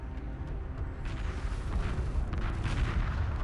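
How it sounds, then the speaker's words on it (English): Weapons fire in a Homeworld II space battle, a dense continuous rumble of distant artillery-like booms and shots rolling steadily throughout without a break. "Strike group receiving fire."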